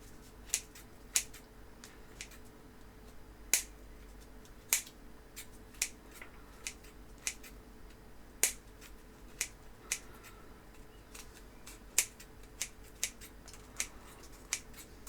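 Scissors make quiet, crisp snips one after another in an irregular rhythm, a dozen or more sharp clicks against a faint, steady background hum.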